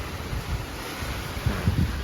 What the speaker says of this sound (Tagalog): Sobrang lakas ng hangin ng bagyo dito.